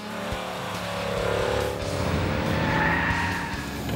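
Scalextric slot cars racing round a very long toy track: a continuous whirring, whining motor tone that swells and fades as the cars pass, steady and fairly loud, with no voices.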